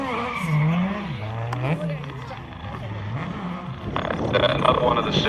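A Subaru rally car does donuts at a 2017 rally day show, with its engine revving up and down and tires squealing and skidding, under a commentator's voice.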